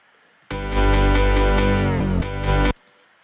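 A dubstep clip with a vinyl effect applied plays as a single loud, dense burst of about two seconds, starting and stopping abruptly with near silence around it.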